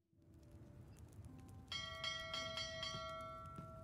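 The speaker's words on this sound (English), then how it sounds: "Who's ringing the bell?" A bell rings in the video game Dragon's Dogma 2, starting with low murmuring ambience before bright, resonant metallic strikes ring out and sustain with a lingering hum.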